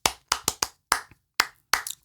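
A group of students clap back a rhythmic clap signal in a classroom, short sharp bursts of clapping in uneven groups, loud and close with silence between them.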